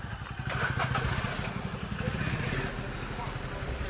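A motorcycle engine runs steadily nearby, a low rumbling idle, with people talking over it.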